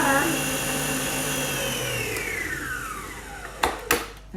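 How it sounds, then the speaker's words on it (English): An electric mixer beating Victoria sponge cake batter whirs steadily, its motor pitch gliding down as it slows, followed by a couple of clunks as it stops. "all I'm doing is I'm mixing up my beautiful batter"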